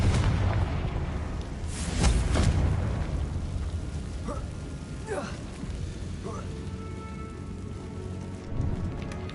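Fiery Confringo spell blasts in Hogwarts Legacy burst with deep booming explosions, one heavy strike early and several sharper crackling impacts after, over a low rumbling game soundscape at moderate volume.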